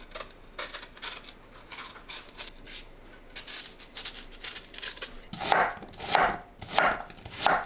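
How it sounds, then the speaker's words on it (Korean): Steady knife chopping of peeled pear into large chunks on a cutting board, rapid rhythmic thuds growing louder and heavier near the end, close and with no talk. "배는 껍질과 씨앗을 제거하고 큼직하게 썰어주세요."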